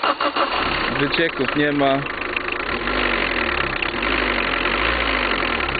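A 2001 Citroen Saxo 1.5 diesel engine cranks and catches, then settles into a steady, loud idle with a low rumbling drone, while someone speaks briefly over the start.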